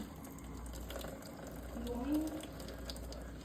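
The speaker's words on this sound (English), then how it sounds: "So we're gonna drain the water out." Water drains off a pan of cooked shrimp as a faint, steady trickle and wash, swelling slightly midway, fairly quiet and unbroken.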